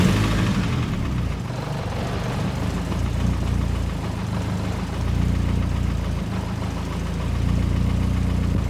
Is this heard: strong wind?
no